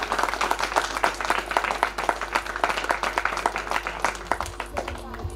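Students applauding at a school farewell program, a dense continuous burst of clapping from a crowd, fairly close and steady throughout.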